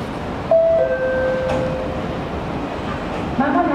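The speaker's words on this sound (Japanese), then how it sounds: "電車が発車します。" A Keiyo Line train rumbles steadily as it pulls away from Maihama Station, with brief chime-like tones and the hum of rail motion throughout, no talking.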